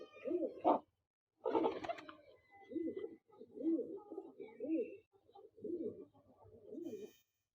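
A Teddy pigeon pair in a loft coos in repeated soft, throaty phrases, close and clear in a quiet space, with short pauses between the calls.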